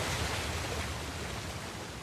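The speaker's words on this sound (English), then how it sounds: "Another waterfall." A waterfall in the video game Uncharted: The Lost Legacy roars as a steady, dense rush of water, loud and unbroken for the whole stretch with no voices over it.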